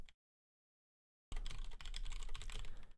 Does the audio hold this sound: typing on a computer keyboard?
yes